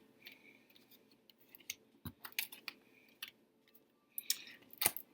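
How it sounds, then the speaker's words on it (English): Tarot cards from an Ostara deck are turned over and shuffled, heard as quiet, close, scattered papery slides, flicks and soft taps with pauses between them. "let's turn over these cards."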